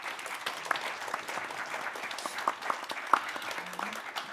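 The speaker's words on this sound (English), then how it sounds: "give them a round of applause" An audience at a Sami culture policy summit applauds with brisk, moderately distant clapping that holds steady for a few seconds.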